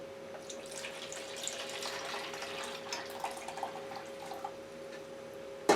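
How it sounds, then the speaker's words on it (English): Broth poured into a measuring cup in a home kitchen, a steady close trickle of liquid running for several seconds with a faint constant hum beneath and a small clink at the end. "I'm going to take some of the broth. I'm going to pour it into this container, measuring cup."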